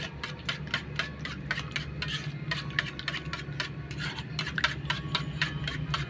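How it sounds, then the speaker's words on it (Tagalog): Eggs are whisked in a bowl for a home-cooked Filipino meal, a quick, steady run of light clinking and scraping taps. The beating is close and carries on with no talk over it. "babatiin muna natin itong binating itlog para masarap guys"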